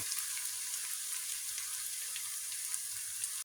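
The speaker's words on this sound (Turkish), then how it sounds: "Evet arkadaşlar soğanım güzelce yandı." Onions frying in a pan make a soft, steady hiss throughout with faint crackles, fairly quiet and close, no voices.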